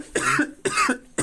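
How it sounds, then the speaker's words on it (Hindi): A sick man coughs three times in quick succession, close and loud, with no talk in between. "थोड़ा तबीयत खराब है, खांसी हो रहा है"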